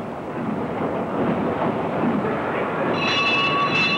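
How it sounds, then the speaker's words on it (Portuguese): An early steam train runs along rails with a steady, loud rumble of wheels and carriage noise throughout, and thin whistle-like tones enter near the end. "Com as máquinas a vapor surgiram também os primeiros trens, mais rápidos e possantes do que todos os meios de transporte até então conhecidos."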